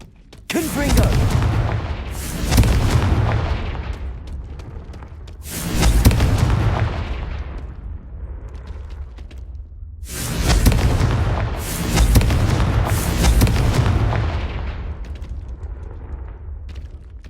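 Confringo blasting spell explosions in the Hogwarts Legacy video game, several loud booming blasts in clusters with rumbling decays between them, heard close and dominant.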